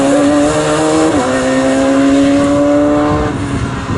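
Radical race cars scream past at Snetterton, loud high-revving engines with overlapping pitch tones that shift through a gear change, close and continuous without voices.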